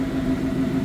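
A 2015+ Ford Mustang with a Ford Performance quad pipe exhaust idling, a steady low droning burble, close and even, brief and alone.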